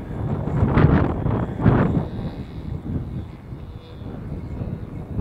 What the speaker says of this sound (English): the wind just blew my hat off my head